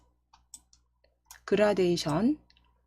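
A computer mouse clicks a few times, sharp and quiet and spaced apart, while shape fill and gradient settings are chosen in PowerPoint. A voice then speaks over a near-silent background.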